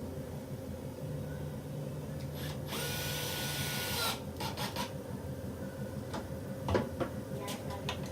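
A power drill drives a screw in a short whirring burst of about a second and a half, followed by a few brief scraping and clicking tool sounds in a quiet room.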